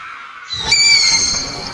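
A barn owl's harsh screech, a single rasping, hissy call that starts abruptly after a brief silence and holds steady, loud and near, with no voices.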